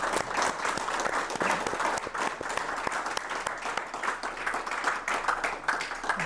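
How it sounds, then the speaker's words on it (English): An audience at a Chicana/o activism event applauds, a dense, steady wash of many hands clapping that carries on throughout without stopping. "Please give a big round of applause to these wonderful."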